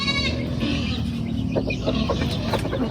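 Chickens clucking and chattering close by over a steady farmyard background, with soft overlapping calls throughout.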